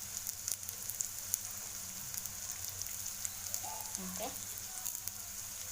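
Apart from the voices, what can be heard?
onions sautéing in a pan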